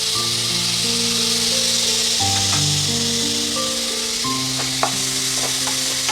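A large tomato sautés in a frying pan with browned onion and garlic, a steady soft sizzle with occasional stirring scrapes, heard under background music.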